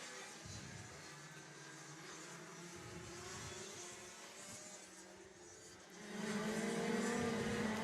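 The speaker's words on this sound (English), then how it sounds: "We have 8 karts on track." Several racing karts in an IKC championship round running on track, a steady, distant engine drone that grows louder and fuller near the end as karts come closer.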